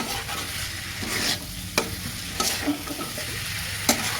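Onion stalks being stir-fried in a pan, a steady close sizzle broken by scraping spatula strokes and a few sharp clacks against the pan, with no voices.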